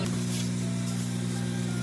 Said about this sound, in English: we're just gonna lightly spray on it